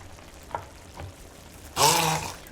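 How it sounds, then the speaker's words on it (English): An immersion blender whirs loudly as it purees a cilantro sauce, starting abruptly after a few faint knocks and running steadily close by for the rest of the moment. "Again, take our immersion blender."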